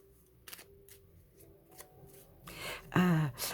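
A deck of gilded oracle cards is shuffled by hand, with soft riffling rustles and light taps and a louder flurry of card noise near the end. Faint speech is present.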